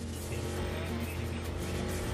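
A car engine drones steadily in Watch Dogs on PS4, a continuous loud rumble with slight revving as the car is driven hard, with no break across the short stretch.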